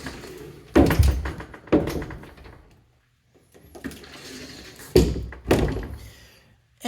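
Closet double doors thunk shut several times, each close a sharp knock followed by a brief rattle and decay, spaced irregularly with quiet gaps in an indoor room.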